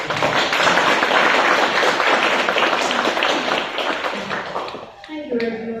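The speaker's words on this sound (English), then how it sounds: "Let's give them another round of applause" Audience applause at an award event, dense clapping from many hands sustained for several seconds, then fading out as a voice begins speaking at the end.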